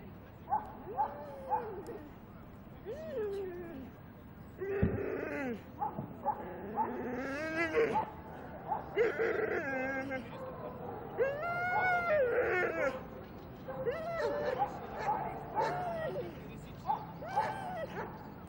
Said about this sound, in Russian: Собаку.